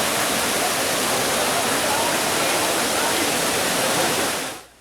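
Water splashing at the Trevi Fountain in Rome, a dense steady rush of falling water filling the scene, loud and continuous before cutting off abruptly at the end.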